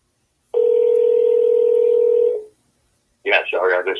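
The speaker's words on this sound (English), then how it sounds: "I'm trying Josh's phone number" A phone line gives a steady, loud, continuous tone for about two seconds before cutting off. After a short silence a voice begins speaking over the line.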